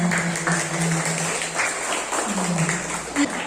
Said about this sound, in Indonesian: Beri tepuk tangan Wilky ya.